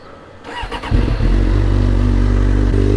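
Suzuki GSX-R 600 sport motorcycle, rebuilt after a wreck, fires up and settles into a loud, steady running note on a test ride, a short burst of revving giving way to a continuous close engine drone.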